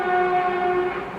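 Trains passing along a rail line near metro construction, with city traffic around, a steady loud rumble carrying sustained tonal horn-like hums throughout the short stretch, no voices.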